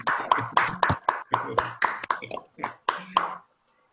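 A few people clap for a doctor at the close of a medical session held online. About a dozen separate claps sound close and distinct, in an uneven rhythm, then stop.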